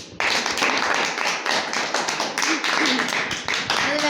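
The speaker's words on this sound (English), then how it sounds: "Clap for Natik." Audience clapping during an English-language school debate on whether alcohol should be banned, a steady patter of hand claps filling the room with voices mixed in.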